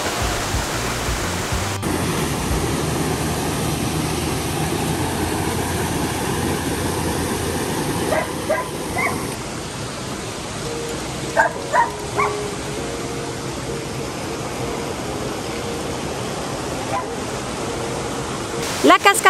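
The Mizarela waterfall in Arouca Geopark, Portugal, a constant broadband rush of falling water, with a few faint brief voices and knocks breaking in now and then.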